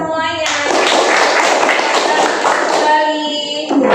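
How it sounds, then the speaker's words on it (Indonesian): A classroom of students claps hands together, a dense loud burst of close clapping that fills most of the moment, with sustained musical tones heard before and after. "Oke, tepuk tangan buat kita semuanya."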